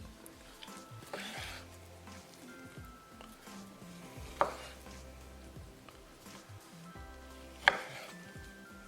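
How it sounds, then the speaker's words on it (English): Knife slicing chicken breast into inch-sized cubes on a cutting board: soft, irregular cutting taps with two sharper knocks of the blade against the board, quiet and close, over a low hum. "So we'll cut right in the middle, and then we're going to cut in the middle, so about 1 inch."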